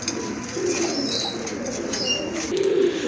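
Pigeons, including a pair of large Lahori pigeons, cooing softly at close range in a low, continuous murmur with a few brief higher chirps.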